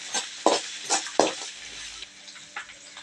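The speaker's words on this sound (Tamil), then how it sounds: "சேர்த்து வெங்காயம் லேசாக வதங்கட்டும்" Onions sautéing lightly in a pan for a lunch-box dish, heard as soft sizzling under a few sharp stirring scrapes and clinks of a spoon against the pan, close and fairly quiet.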